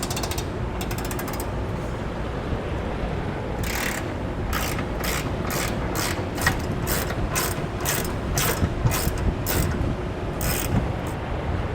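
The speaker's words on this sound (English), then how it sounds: "13/16 socket." A ratchet wrench with a 13/16 socket turns bolts during a Curt trailer hitch install on a 2021 Chevrolet, close rapid clicking bursts that settle into a steady run of evenly spaced ratchet strokes over a low background rumble.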